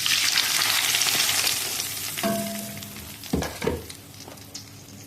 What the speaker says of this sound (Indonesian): lalu tumis bumbu yang sudah dihaluskan